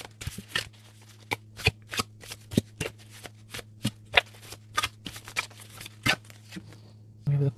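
A deck of tarot cards is shuffled over and over in short, crisp riffling bursts, roughly a dozen or more in an uneven rhythm, close and clear over a low steady hum.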